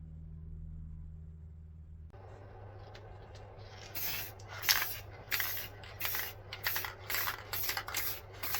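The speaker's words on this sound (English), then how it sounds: "Now I've sprayed it with the champagne gold." Champagne gold spray paint hisses onto a plywood zebra cutout from a scroll saw project, starting after a quiet hum as a series of short, close bursts of spray with brief pauses between them.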